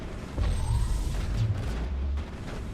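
Gunfire in a Mass Effect firefight: a dense, sustained stretch of muffled booming shots and crackling impacts lasting a couple of seconds, loud and continuous without clear gaps.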